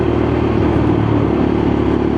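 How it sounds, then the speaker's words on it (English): Lexmoto LXR motorcycle engine holding high revs after a downshift while rolling through a roundabout, a steady loud mid-pitched drone with constant buzz and no break throughout. "Drop a gear, keep my revs up."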